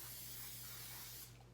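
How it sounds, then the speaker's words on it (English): A continuous aerosol cooking spray hisses steadily onto a baking sheet for over a second, then cuts off, leaving a faint low hum. "spray your baking sheet"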